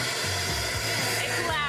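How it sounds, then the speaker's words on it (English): A vacuum clearing leftover metal powder from a metal 3D printer gives a loud, steady whining roar with wavering pitch, running through the whole short stretch. "We'll end up turning on a vacuum."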